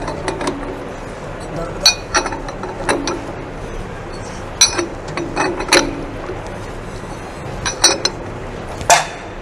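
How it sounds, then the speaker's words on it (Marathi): Metal clinks and light ratcheting clicks ring out at intervals as a nut is hand-tightened onto the wheel of a cylindrical grinding machine, with sharp transients against a steady low workshop hum and a voice in the background. "थोडंसं हाताने पहिल्यांदा आवळण्याचा प्रयत्न करतो मी"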